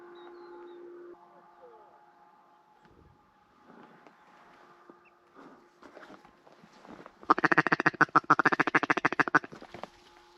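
Outdoors with wind noise, a rapid burst of loud, raspy hen mallard quacking erupts near the end, several harsh calls in quick succession.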